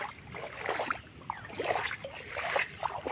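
Water across a flooded shortcut road, faint close trickling and small splashy gurgles with soft scattered drips, quiet and uneven throughout, no clear talking.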